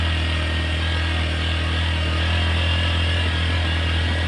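A heavily loaded Honda Supremo 150cc motorcycle engine labors at low speed in first gear in a steady, loud drone, close by, with a low rumbling pulse and no voices.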